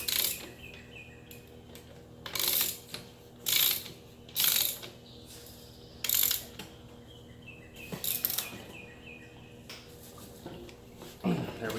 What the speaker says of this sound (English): I'm going to go ahead and snug this axle down.